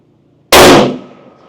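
A single sharp, loud rifle shot from a lightweight Bergara rifle fired outdoors at a target, a sudden crack followed by a short decaying echo.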